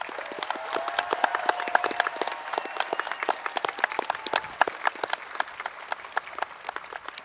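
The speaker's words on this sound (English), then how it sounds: "Could we please have a round of applause for the class of 2023?" A commencement audience at Downingtown High School East applauds the graduating class of 2023: dense, sustained clapping from a large crowd, steady and fairly loud for the whole stretch, with no talking.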